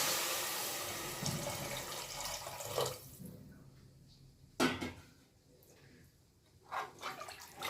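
Three cups of water pour briefly into a pot of rice, then stop; a few scattered knocks and splashes of a vessel follow in a quiet kitchen.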